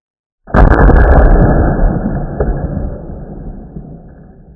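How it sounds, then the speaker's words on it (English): A Marlin 1895 SBL rifle fires a single loud shot with a heavy muzzle blast, the sharp report giving way to a long, fading rumble. "the muzzle blast took the took the shades right off the chronograph"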